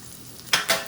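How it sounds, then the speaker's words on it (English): Peppers and scallions for Mongolian beef sauté in hot oil, giving two quick bursts of sizzling and stirring, close and fairly loud, in under a second. "And we're just gonna saute the peppers and"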